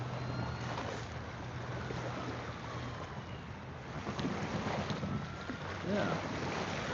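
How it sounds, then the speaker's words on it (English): Waves lapping on Mille Lacs Lake in Minnesota, a steady low wash blended with wind buffeting the microphone, with faint voices underneath and no distinct breaking crashes. "Hopefully you can hear the waves. I love that sound."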